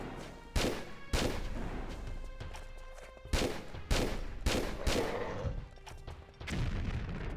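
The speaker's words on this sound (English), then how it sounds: "Let's see how you respond to high caliber rounds." Heavy, high-caliber gunfire in the Tomb Raider III Remastered video game: a series of loud, booming shots spaced about a second apart, each with a crashing decay, and no speech over them.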